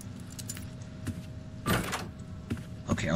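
A door opening in the Roblox game Doors, with a few separate clicks and rattles followed by louder bursts of creaking and sliding movement, fairly close, with no speech.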